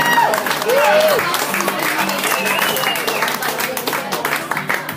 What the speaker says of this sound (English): Come give them a round of applause while they're coming up here